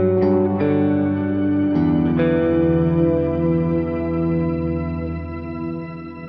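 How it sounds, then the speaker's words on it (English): Ambient electric guitar through a clean amp profile with a Kemper drive in front, natural reverb and crystal delay: a few plucked notes ring out and bloom into a lush, shimmering sustained wash that slowly fades. "a lush ambient sound created by a clean amp profile, the Kemper drive in front of it, and natural reverb and crystal delay"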